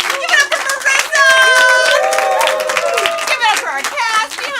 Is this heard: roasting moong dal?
no